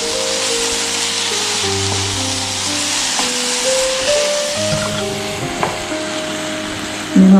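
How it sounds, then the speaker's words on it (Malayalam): Kasuri methi sautéing in butter chicken masala in a pan, a loud continuous sizzle and hiss with occasional stirring scrapes and faint background tones, ending in a brief louder knock. "അതുകൂടി ഈ കൂട്ടത്തിലൊന്ന് വഴറ്റിയിടാം."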